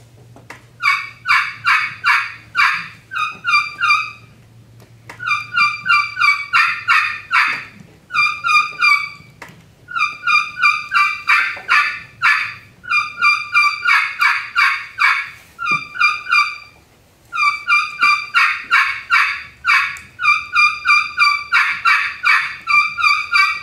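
A friction call imitates a turkey hen's plain yelp, played in competition as repeated bursts of sharp, raspy two-tone notes in rhythmic series, loud and close, with short pauses between runs.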